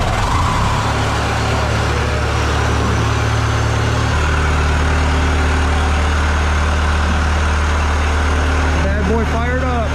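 A Chinese mini skid steer's diesel engine catching and settling into a loud, low, steady idle rumble, up close, with people talking over it near the end.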